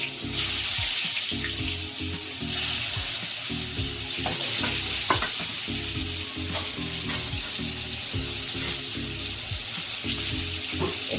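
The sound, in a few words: brinjal (eggplant) pieces frying in hot oil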